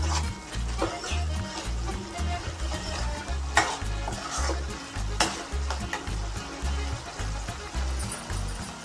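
Masala curry of okra cooking in oil in a pan, stirred with repeated scraping strokes over a constant sizzle, close up with a low rhythmic thumping underneath and no talking.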